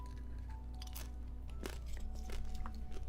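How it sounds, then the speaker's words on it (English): Pumpkin seeds are crunched between the teeth up close, with several sharp, irregular cracks and crunches over a quiet, steady background and no speech. "Let me know if you can hear me crunching my seeds."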